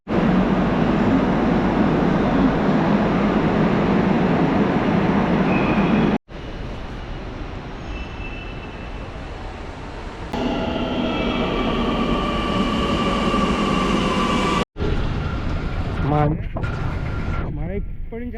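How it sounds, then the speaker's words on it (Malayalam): A train rolls through a South railway station in the rain: a loud, steady rumbling roar that cuts off abruptly twice, with some clanking mechanism sounds toward the end. "ഞാനിപ്പോൾ സൗത്ത് റെയിൽവേ സ്റ്റേഷനായി"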